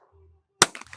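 A single sharp Remington shotgun shot cracks at a trap team shootoff, one quick report that fades into a short rattling tail, with a faint low hum before it.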